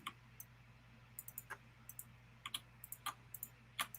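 Computer keyboard typed on in short irregular bursts of clicks over a low steady hum, fairly quiet and close, no voices.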